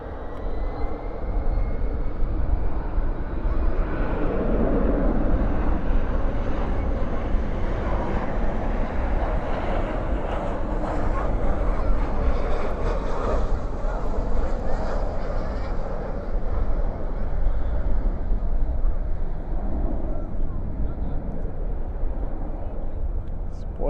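An airliner landing at night at Dallas Fort Worth airport with thrust reversers deployed gives a broad, sustained roar that swells and holds steady for the whole stretch, loud and continuous with a faint voice underneath.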